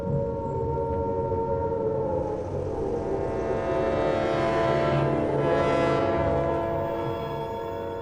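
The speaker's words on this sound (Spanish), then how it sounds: "En Gran Bretaña, las sirenas antiaéreas suenan" Air-raid sirens wailing across Britain at the outbreak of the Second World War, a steady sustained tone with a slow rise and fall in pitch, loud and continuous with no talk.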